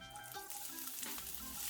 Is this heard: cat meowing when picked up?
no